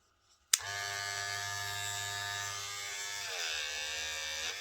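A Geemy GM 860 or Kemei KM 2614 hair clipper, a Wahl Dancer replica, switches on with a click and runs with a steady high-pitched electric buzz, close up, its pitch dipping briefly as the load changes, with no voices.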